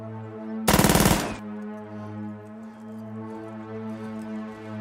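A short burst of rapid submachine gun fire from a television drama, loud and fast, lasting under a second, then a steady droning hum continues behind it.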